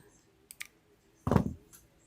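Snipping off an extra piece of a Dollar Tree nativity ornament: two light clicks, then a louder, brief crunching cut, close and quiet, with no talking.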